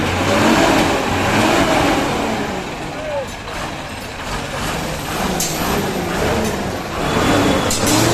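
A wooden-bodied bus engine rumbles and revs steadily at the Bankura bus stand, with other heavy vehicles and brake hisses mixed into a dense roar of traffic. Voices talk over the noise throughout.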